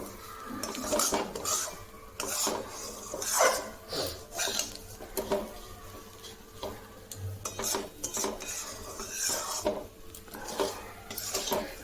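Semolina roasting in a pan for upma, with steady scraping and clinking of a utensil against the metal pan, repeated close stirring strokes and a faint sizzle underneath, no talking.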